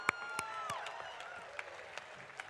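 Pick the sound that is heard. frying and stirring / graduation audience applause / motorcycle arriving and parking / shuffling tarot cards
graduation audience applause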